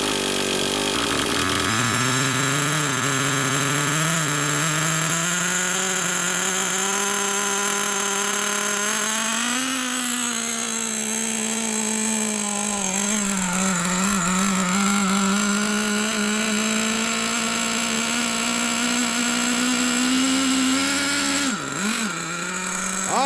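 An old engine kept in a basement turns over and then runs steadily for a long stretch, a loud, close drone whose pitch wavers and rises slightly near the end, with no talking.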